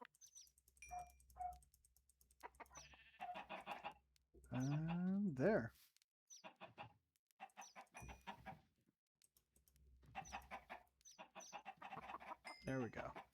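Blocky chickens in Minecraft cluck in short scattered bursts, with one louder rising squawk midway, heard between stretches of quiet ambience; a person talks over parts of it.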